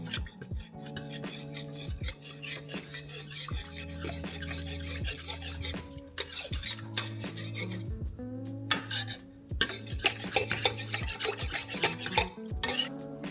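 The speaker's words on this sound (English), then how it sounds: "I'm gonna take my bread stirrer and just give it a little mixy mix." A bread stirrer works through sourdough bagel dough, giving steady rasping, scraping strokes under background music that continues throughout.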